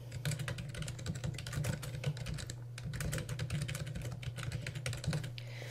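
Steady fast typing on a computer keyboard as an email subject is entered in Outlook 2007, dense clicking keystrokes running continuously over a low steady hum, close and moderately loud.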